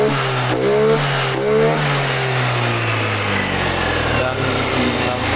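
A Yamaha NMAX scooter with an aftermarket regulator fires up and revs, its small engine climbing and falling in pitch through repeated throttle blips, close and loud, with someone speaking over it.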